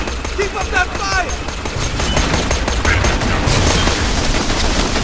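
Rapid gunfire from the video game Borderlands 2, dense bursts of shots running through the whole stretch under a steady loud bed of game noise, growing heavier in the second half.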